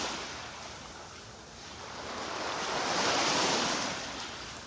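Waves rolling onto a beach in North Naples, Florida, with red drift algae hanging just offshore: a steady wash of surf that swells and eases, heard alone with some wind noise over the microphone.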